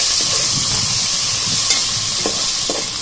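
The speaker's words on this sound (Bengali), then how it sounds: "এবার দিয়ে দিলাম টমেটো আর আদা বাটা, দিয়ে আর একটু নাড়াচাড়া করে কষিয়ে নিচ্ছি" Tomato and ginger paste sizzles in a hot pan, steady frying hiss throughout with soft scraping strokes of a spatula stirring it, close and fairly loud, no talking.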